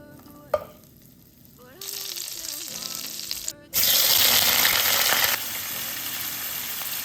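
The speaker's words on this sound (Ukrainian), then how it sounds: "Починаємо обсмажувати наші моріпродукти." Seafood sizzling and frying in butter and a little oil in a hot pan, loud and close, with clattering stirring and a short metallic clink near the start.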